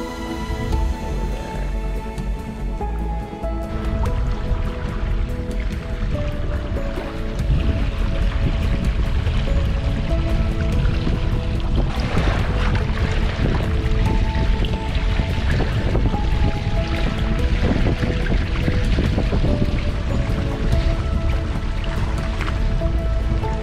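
Wind and rushing water surround a small sailboat heading for a deserted island, a loud, steady broadband wash that grows fuller after the first few seconds and continues without letup.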